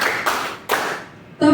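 Hand clapping in a group call-and-response clap pattern, with two loud close claps in succession followed by a brief voiced call at the end.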